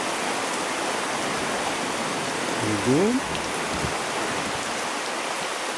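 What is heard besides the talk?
heavy rain downpour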